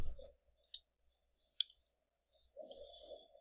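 A mouse clicks on the OK button in LED sign playlist software: a few quiet, sharp clicks with one crisper tap near the middle, set against a near-silent room with no talking.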